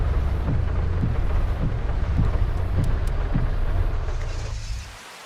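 Steady rain with low rumbling thunder in the video game Farming Simulator 25, a constant hiss with periodic soft thumps that fades away near the end.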